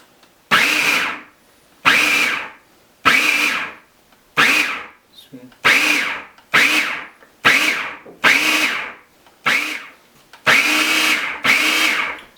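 A food processor pulses hummus in short loud bursts, about ten of them, each roaring for roughly a second before cutting out, with brief pauses between.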